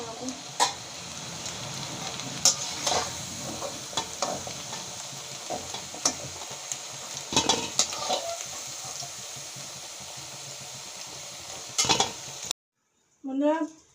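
Cauliflower florets fry in oil in a village-style kitchen with a loud, continuous sizzle, scraped by a utensil stirring against the pan, then a sudden cut to quiet and a brief voice at the end.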